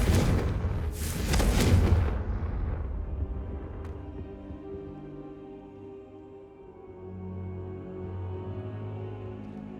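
A Confringo fire spell blasts in Hogwarts Legacy, a loud close burst with crackling flame in the first two seconds, then a long rumbling decay fading under low ambient music.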